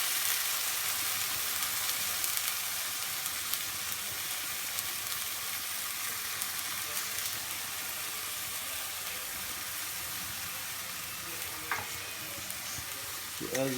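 Onion paste for shahi paneer sizzles steadily in a hot pan, a dense continuous frying hiss with occasional stirring scrapes and a few clinks toward the end, no talk.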